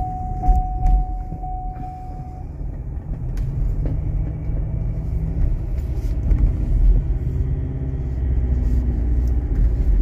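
A Ford Endeavour automatic SUV rolls along in drive gear, with a steady low engine and road rumble heard from inside the cabin and no talk.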